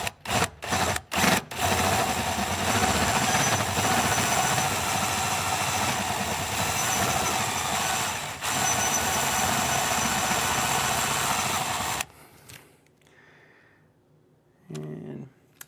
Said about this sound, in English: if you're drilling in this, you really need a solid carbide drill bit